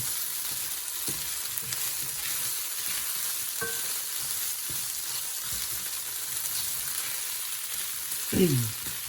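Chicken thighs browning in a pot, with a steady close sizzle and a few faint utensil scrapes, then a brief louder knock near the end.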